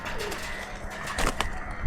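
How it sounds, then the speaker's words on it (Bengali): A Pakistani Teddy pigeon coos softly at close range, with a few low, brief calls over a steady background hiss and faint rustling. "এই হচ্ছে ব্রাইডেল কবুতর।"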